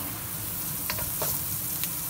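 Garlic browning in a hot pan for beef fried rice gives off a steady, close sizzle, with a few brief stirring scrapes partway through.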